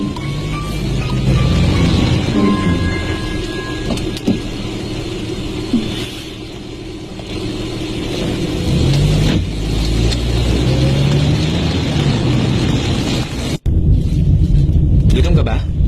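A car drives through traffic with a continuous engine rumble and road noise, while people talk over it and a sharp jolt sounds near the end.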